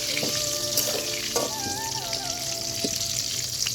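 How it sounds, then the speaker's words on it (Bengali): Potatoes fry in hot oil, a soft continuous sizzle with occasional light clinks of a utensil against the pan, steady and close with no talking. "আলুটা ভাজা হয়ে যাচ্ছে"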